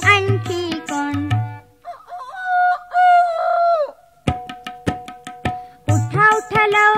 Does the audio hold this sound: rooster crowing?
yes